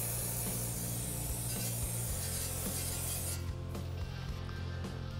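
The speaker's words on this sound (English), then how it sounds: "Now we'll take some brake parts cleaner." Brake parts cleaner sprayed onto a car's wheel hub to wash off penetrating oil, a steady close hiss running continuously throughout with faint metallic clinks.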